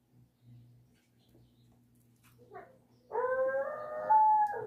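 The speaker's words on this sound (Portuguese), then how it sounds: "E o cachorro tá latindo ali, pessoal." After faint, quiet rustling, a dog lets out a drawn-out, wavering howl-like whine that carries on strongly to the end.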